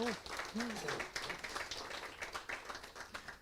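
A kind audience at a poetry showcase closing party applauds after a short poem is read, warm sustained clapping filling the room while a voice speaks briefly over its start.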